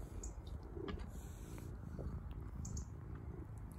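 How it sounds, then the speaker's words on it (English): A stray cat purring loudly and steadily up close, a continuous low rumbling throb with no other sounds. "this little purrer, purring really loud"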